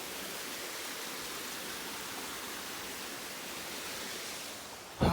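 A small waterfall on a mountain creek in the Rockies rushes steadily, a broad, even wash of falling water with no break, heard near and alone.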